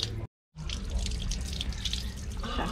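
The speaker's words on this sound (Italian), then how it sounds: "C'è acqua sotto la fontana della sirenetta." Water runs and splashes from a public drinking fountain spout in Calabria in a steady, close trickle, broken by a brief moment of silence near the start.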